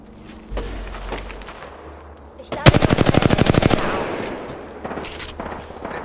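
Video game gunfire: scattered shots and impacts building to a loud, fast burst of automatic fire mid-clip, followed by lighter intermittent shots and rumble.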